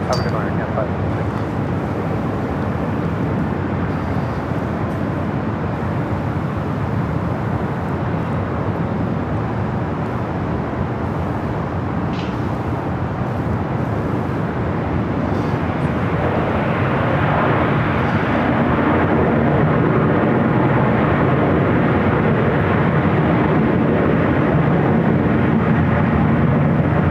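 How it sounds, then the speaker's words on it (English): A Boeing 747 touching down on runway 25 Left at LAX, a broad steady jet roar rising slightly toward the end, heard from a distance alongside a voice talking. "747 touching down any moment on the south side at 25 left"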